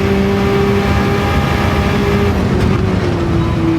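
A Lamborghini Countach QVX race car engine revs loud and close, holding a sustained harmonic drone whose pitch shifts slightly as it moves through a gear change near the end.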